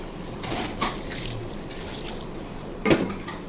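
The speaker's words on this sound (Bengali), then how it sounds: "মশলা ভাজা ভাজা হয়ে গেছে, এখন পরিমাণ মতো পানি দিয়ে দিব।" Water poured into a pan of fried spices for eggplant and rohu fish curry, a soft trickle and splash over a low hiss, with a sharper splash near the end.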